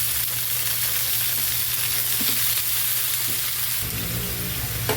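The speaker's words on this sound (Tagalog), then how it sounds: "Lagay na natin itong chicken feet." Salt-soaked chicken feet hitting a hot pan for adobo, giving a loud, steady sizzle that fills the whole stretch, with a few soft clacks as they settle in the oil.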